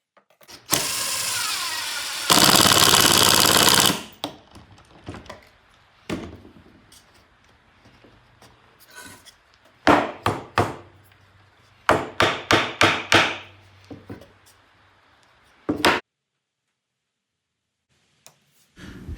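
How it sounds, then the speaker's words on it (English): A power drill drives screws through pocket holes to join two wooden pieces at a right angle, using a Kreg Jig 720 and pocket hole clamp. Close, loud whirring bursts come first, then a run of short, sharp pulses with quiet gaps between. "I'm driving a few screws in, and this is attaching these two pieces at 90 degrees."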